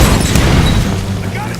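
Gunfire in the Tomb Raider video game, a dense burst of booming shots with crashing impacts, loud and close, overlapping with shouting game dialogue.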